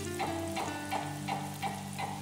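Spices sizzle gently in oil on low heat, a soft steady crackle with faint periodic stirring scrapes roughly every third of a second, quiet and close, no voices.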